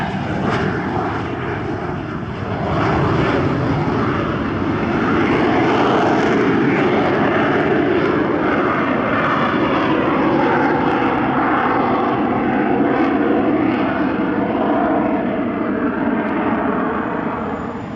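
A-37 jet aircraft flying at the Shellharbour airshow in 2024, giving a steady, loud engine roar that rises slightly after the first few seconds and holds throughout, with no voices.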